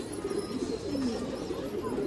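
A female Gavthi-Allahabadi cross pigeon at a Nashik pigeon festival coos in low, steady, repeated notes, close by, over a constant murmur of background noise.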